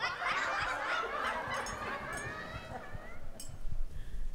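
A person imitates a chicken, with clucking and squawking vocal sounds that sputter on for a few seconds and fade into light laughter-like noises.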